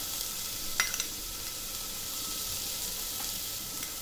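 Finely chopped vegetables, including green beans, sizzle and fry in a pan as they are stirred, a continuous bright hiss with a few light scraping clicks early on, fairly close and with no talking.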